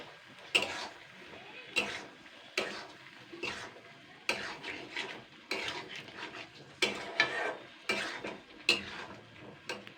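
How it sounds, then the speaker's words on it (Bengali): Potatoes with soy sauce and tomato ketchup being sautéed in a pan, a spoon scraping and stirring in repeated strokes about once a second over a soft sizzle, close and fairly loud. "এবার আমি এগুলোকে আগে ভালো করে কষিয়ে নেবো"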